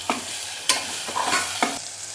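Masala sizzles steadily in a hot pan over medium flame while a spoon scrapes and stirs in several distinct strokes, close and clear with no talking.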